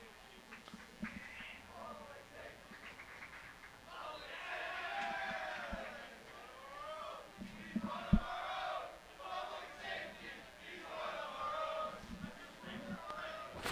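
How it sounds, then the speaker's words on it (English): Seton Hall students cheering at a men's college soccer game against Butler, a distant crowd of chants and yells rising and falling in waves, with occasional sharp shouts and no commentary over it. "Seton Hall's students have not stopped cheering. You can hear them here loud and clear."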